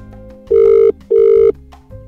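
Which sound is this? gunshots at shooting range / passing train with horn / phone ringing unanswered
phone ringing unanswered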